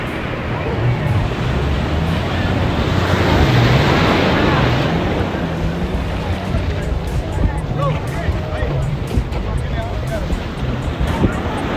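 Strong evening sea waves at Calangute beach in Goa wash and roar continuously with wind buffeting the microphone, while people talk over the surf.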